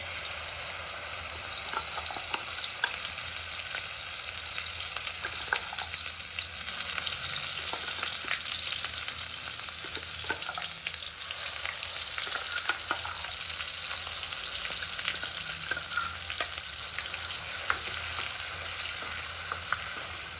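Steady, dense frying crackle of masala paste in oil with faint scraping of a spoon now and then, close and continuous with no talking.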